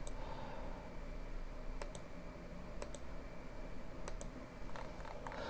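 Sharp mouse button clicks sound in small pairs and clusters, spaced a second or so apart, over a quiet room hum.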